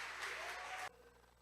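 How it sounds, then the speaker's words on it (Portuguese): An audience claps at a celebration event, a dense, lively burst of applause that stops abruptly, leaving a quiet room. "Uma salva de palmas para Jesus e para a enfermeira"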